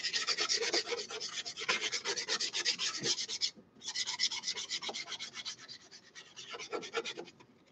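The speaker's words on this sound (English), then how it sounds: "So the first step is we're going to, like I said, gesso it. Then we got to sand it." Sandpaper rubbing back and forth across a gessoed wood panel, close and steady in rhythmic raspy strokes, with a brief pause midway before the scrubbing resumes.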